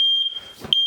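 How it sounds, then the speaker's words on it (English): A home smoke alarm sounds during a test, giving a loud, steady high-pitched beep that cuts out briefly and then returns. "Should go off soon. There it goes."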